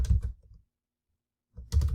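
Short bursts of computer keyboard typing, one brief flurry of key clicks, then a pause, then another flurry, close and fairly loud.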